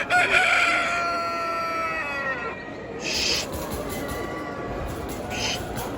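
Australorp chickens, a Turkish national champion hen among them, at a poultry show: a long rooster crow rings out clearly, followed by scattered clucks and two brief high calls over steady background hubbub.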